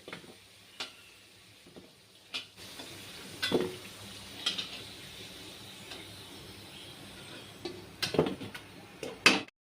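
Soft sizzling of dried chillies frying in oil, broken by scattered scraping and clanking of a spatula in the pan.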